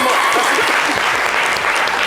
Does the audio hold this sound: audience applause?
yes